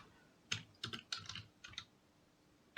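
Keys on a computer keyboard clatter in a short burst of about seven quick, light taps, then a pause and one final keystroke, faint and close in a quiet room.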